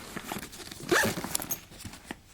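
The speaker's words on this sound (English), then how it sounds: "If I can find where the zipper is, there it is." A zipper on an Ebags Mother Load TLS Weekender Convertible bag is pulled open in a few short, close raspy bursts, with one louder stroke in the middle and no talking.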